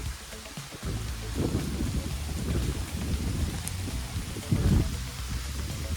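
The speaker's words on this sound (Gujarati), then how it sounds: "કાંઈ દેખાતું નથી એવો વરસાદ આવે." Heavy rain pours onto an open farm field during a storm, a dense steady hiss with low rumbling swells and gusts, loud and continuous throughout.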